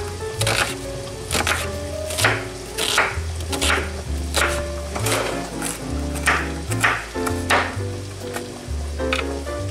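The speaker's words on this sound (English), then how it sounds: "We're gonna chop the onion and carrots first real quick." A knife chops onion and carrots on a cutting board in a home kitchen, with quick repeated knocks in an uneven rhythm over steady background music.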